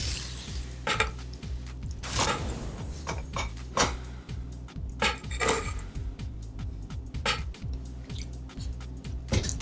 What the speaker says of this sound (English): we're going to add the carrots and mix it till it's well combined